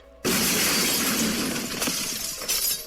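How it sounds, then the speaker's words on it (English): A chair smashes through a delicate frosted glass window in a video game, producing a sudden loud shatter followed by a sustained spray of breaking glass and tinkling shards that fades slowly. "Grabbing a chair, I slam it against the delicate frosted glass of the window, smashing my way to freedom."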